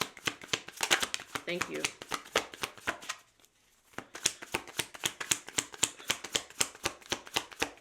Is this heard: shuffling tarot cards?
yes